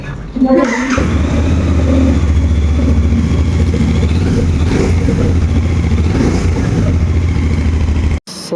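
A Royal Enfield Bear 650 twin-cylinder motorcycle runs close and loud, a steady throaty drone with a couple of brief revs rising and falling before it cuts off near the end.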